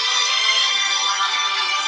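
A loud telephone rings continuously, a harsh bright electronic tone that stays steady and close with nobody talking.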